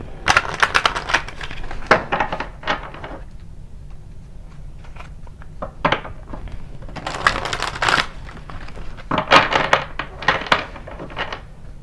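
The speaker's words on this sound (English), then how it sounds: "Let's pull some tarot cards to get anything else that Spirit has for you guys." Tarot cards shuffled by hand in bursts of crisp riffling and flicking, close and fairly loud, with quiet gaps between shuffles and no talk.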